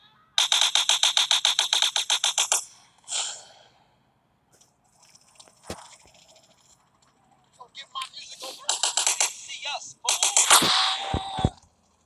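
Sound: gunfire from shooting in video game GTA San Andreas

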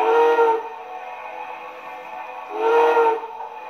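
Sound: MTH model train steam whistle sound

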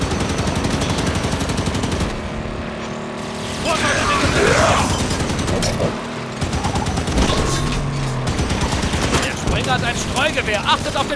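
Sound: gunfire in the Halo 5 Guardians video game

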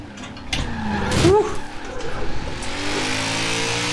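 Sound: BMW M3 E46 drifting in video game Forza Horizon 4

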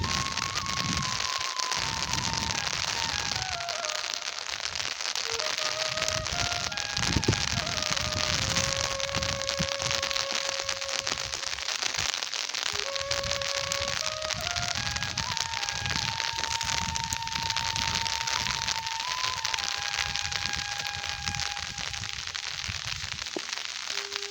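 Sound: pattering rain

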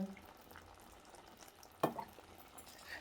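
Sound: stirring a curry with yogurt and coconut oil in a pan

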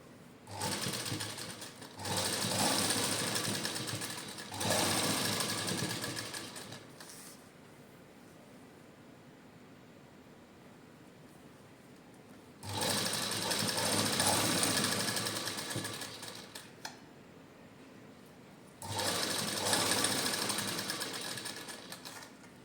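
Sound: sewing machine stitching lace onto a suit

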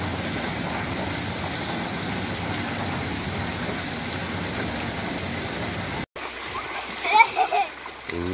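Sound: children splashing in river water

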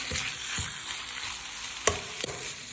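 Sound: pork stir-frying in chili paste

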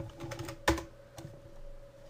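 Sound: computer keyboard typing in a download code

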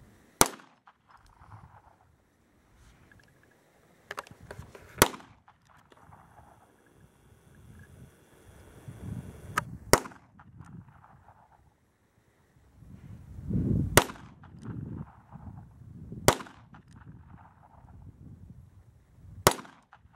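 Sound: gunshots from Smith & Wesson Model 34 .22 revolver at steel target

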